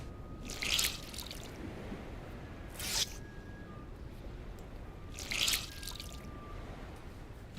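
Water dripping and splattering as wet clothing is wrung out by hand in the DayZ video game, three short bursts of trickling spaced a couple of seconds apart over a quiet background.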